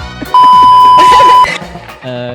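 A single loud, steady censor bleep cuts across a Hindi podcast conversation, holding an unbroken tone for about a second, with talking before and after it.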